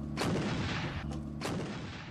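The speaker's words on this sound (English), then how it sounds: "Churchill noted incoming German artillery in four shell salvos that were falling on British positions about a mile away." German artillery shell salvos exploding near British positions, rendered as a war sound effect: deep booming blasts in quick succession with rolling rumble between them.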